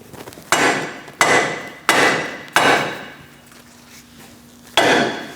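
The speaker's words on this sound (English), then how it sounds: "we're going to give it a whack right around here, and it should drop down" A hammer whacks the lower control arm mounting bracket on a 2000-2006 Mini Cooper, five sharp metallic blows in an uneven rhythm, each ringing briefly, loud and close with no speech.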